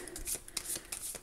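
A deck of tarot cards being shuffled by hand in quick bursts, several crisp riffling rustles spaced a few tenths of a second apart, close and moderately loud with no talking.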